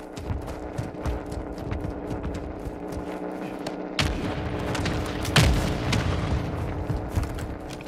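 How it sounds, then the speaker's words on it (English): Mortar strike explosions in a combat video game: heavy booms landing near, the strongest about two thirds of the way through, amid constant rumbling battle noise and scattered shots, without talk. "Hostile mortar strike near your position."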